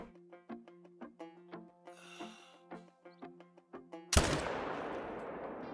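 A single loud rifle shot rings out at an animal while hunting in Call of the Wild, fired from a new rifle. Soft rhythmic ticking comes first, then the sharp blast with a long rolling echo.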